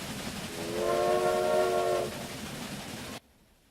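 A train runs in the Railway Empire video game, with a horn sounding for about a second over a steady rumble and rattle before it cuts off.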